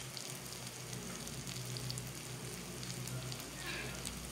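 Ground black pepper, coriander and cumin powder with salt frying in a pan for egg chops, a steady soft hiss of sizzling oil with no voices.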